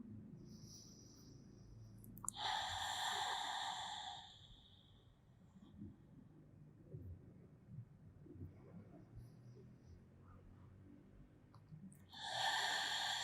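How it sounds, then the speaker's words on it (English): Slow, deep breaths during a pilates relaxation, two long airy exhales about ten seconds apart, soft and close with a quiet background between them. "Just listen to your breath."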